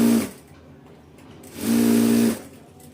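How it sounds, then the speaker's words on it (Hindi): An electric sewing machine runs a straight stitch along a blouse button strip in two bursts of steady motor whir, a brief one at the start and a longer run of under a second, close and loud. "यहाँ पे लगाते हैं सिलाई। ये सीधी सिलाई जो है हमारे एंड तक चली जाएगी।"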